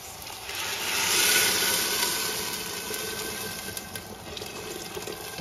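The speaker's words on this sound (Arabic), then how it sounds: "راح ادير كمية مي مفورته." Boiled water poured into a cooking pot in one continuous rushing gush that swells and then eases slightly, close and steady with no talk.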